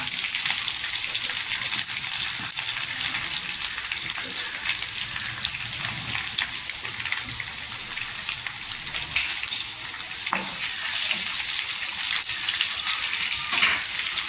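Curry leaves and asafoetida sizzle steadily in hot tempering oil for dal, a continuous bright crackling hiss that stays level throughout, with faint clinks now and then.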